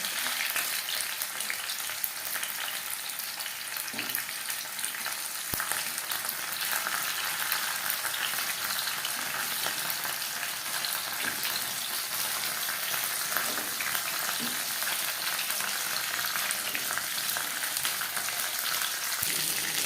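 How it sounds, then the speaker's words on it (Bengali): Steady, loud frying sizzle of chicken for satay in hot oil, a continuous crackling hiss that carries on evenly throughout with no voices. "তিন চারবার উল্টে পাল্টে ভেজে নিয়েছি"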